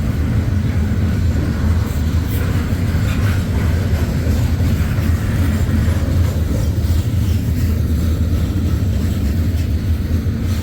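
An eastbound freight train rolls past at Fremont, Nebraska, on the Fremont–Omaha subdivision, giving a steady, heavy low rumble with continuous wheel and car noise that holds at the same level throughout.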